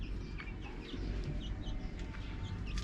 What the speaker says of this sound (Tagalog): At ito yung mga manok natin.